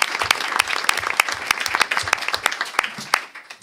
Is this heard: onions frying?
no